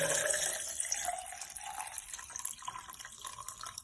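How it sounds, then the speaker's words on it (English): Water runs and splashes steadily into a blender for a few seconds, a bright continuous pour with faint drips, close by and with no talking. "and then guys, I'm just gonna go ahead and put some water."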